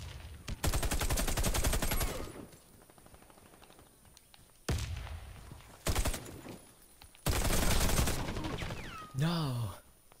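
Bursts of automatic gunfire in the Warface online shooter, several rapid volleys separated by short pauses, loud and close, with a voice speaking in between.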